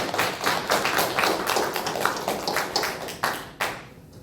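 A church congregation at a Sunday worship service claps steadily and loudly for several seconds, the claps blending into continuous applause.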